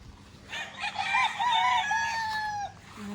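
A rooster lets out one close, loud crow lasting about two seconds, with a rising start and a long drawn-out tail, heard alone over a quiet background.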